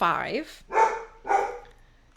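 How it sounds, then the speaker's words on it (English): A Great Pyrenees dog barks three times, loud and fairly close, each bark spaced roughly half a second apart. "that's one of my Great Pyrenees barking"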